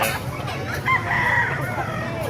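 A 10-month-old double-banded Gilmore gamefowl rooster crows once, a short rising call of moderate loudness heard close by over a steady background murmur.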